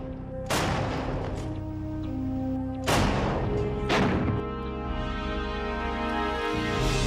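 Bofors artillery guns fire shells in three heavy booming blasts, each a sharp loud impact with a long rumbling decay, against a steady low mechanical drone between the shots.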